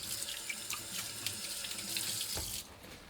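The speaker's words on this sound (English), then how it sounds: "I'm just going to get my hands rinsed a bit." Tap water runs steadily into a kitchen sink while hands are rinsed during vegan taco prep, a continuous close splashing hiss that drops in level near the end.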